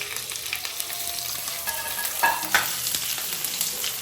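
Pork adobo frying in a pan with a continuous close sizzle, broken by a few scraping stirs and light utensil clinks.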